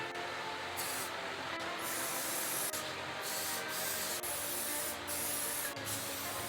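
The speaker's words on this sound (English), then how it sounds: "I'm spraying the spray paint over the leather" Short hissing bursts from a can of black spray paint on car interior leather, several quick sprays separated by brief pauses, close and fairly quiet, with no talking.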